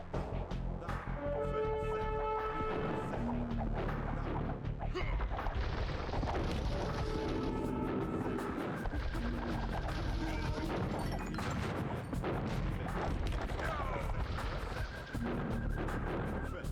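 Cannon fire and battle crashes fill a medieval strategy game, with repeated heavy booms and smashing impacts over dense, continuous combat noise and tonal game sounds.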